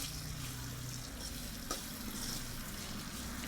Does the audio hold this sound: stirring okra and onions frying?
yes